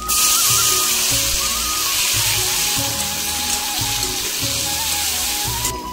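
Chopped tomato dropped into a hot pan of oil and ginger paste for a vegetarian elephant-foot yam curry, giving a loud, steady, close sizzle that holds without a break and has no voice over it.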